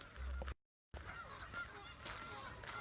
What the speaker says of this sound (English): Okay, there's the geese, like Bert said.